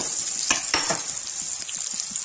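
Potatoes are added to hot oil that already holds onion for a bhindi aloo dish, giving a steady bright sizzle with a few soft bumps and scrapes, close and without talk.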